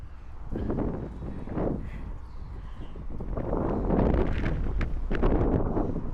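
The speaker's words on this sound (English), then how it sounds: "you can clearly hear how freaking windy it is" Gusty wind buffets the microphone in loud, low rumbling bursts that swell and fade, building toward the end, with no one speaking.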